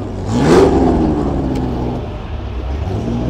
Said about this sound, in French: là on a une Ford GT40 qui vient de démarrer là